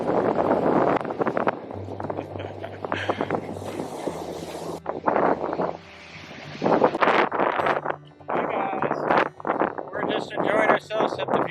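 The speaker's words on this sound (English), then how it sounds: "Yes, it was really windy and the waves are really choppy." Strong wind buffets the microphone at an ocean beach with choppy waves, loud gusty rumbling that rises and drops in bursts, heard beneath frequent talking.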